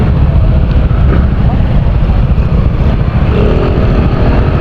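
A group of ten motorcycles riding out together toward Pangasinan, a loud, steady engine roar close by with heavy wind buffeting, continuous throughout.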